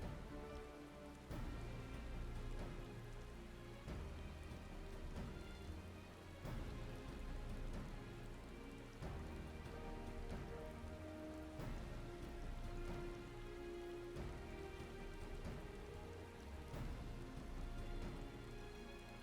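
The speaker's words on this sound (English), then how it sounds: "It's rainy here on the coast." Steady rain falls on the coast in the Final Fantasy XIV world, a dense continuous hiss of drops with faint rumbling underneath, heard alone at an even, enveloping level throughout.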